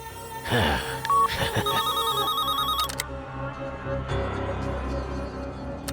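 A telephone rings with a bright, repeating electronic tone in short bursts. Musical background sounds play underneath, and the ringing stops abruptly partway through.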